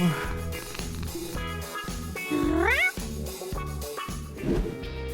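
A cat brought into a classroom meows several times over a rhythmic backing track, with one rising, drawn-out meow in the middle and a shorter cry near the end, close and clear.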